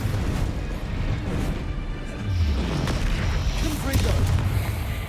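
Incendio, a fire spell in Hogwarts Legacy, is cast and bursts into a dense, roaring rush of flame with booming crackles, sustained and loud, with a voice speaking over it.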